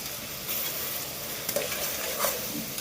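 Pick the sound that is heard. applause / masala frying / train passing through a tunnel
masala frying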